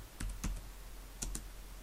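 A few quiet clicks from a computer keyboard as networking commands are typed, in scattered pairs of sharp keystrokes separated by short pauses against a faint background hum.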